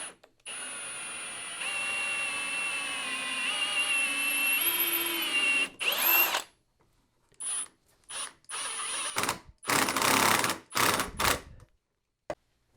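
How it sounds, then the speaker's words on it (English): Power drill boring a pilot hole and driving a bolt into a thin strip jig, a sustained whining run followed by several short bursts of the tool spinning up and stopping. "So I need to drill a pilot hole to put that in."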